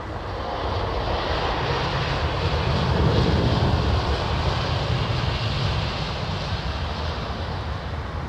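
Jet airliner at London Heathrow Airport, a steady, loud engine roar that swells slightly around the middle and holds throughout, with no talking.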